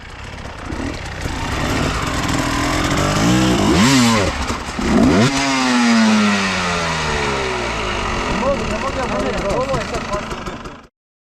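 A KTM TPI motorcycle with a relocated fuel injector revs hard on a test ride, its engine note climbing and falling through repeated sweeping pitch changes, loud and close, before cutting off abruptly.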